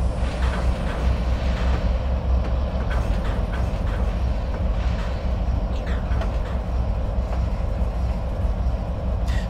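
A small train in the Trainz 3 mobile game rumbles steadily with continuous low rolling noise and faint clicking, loud and constant throughout, with no voices.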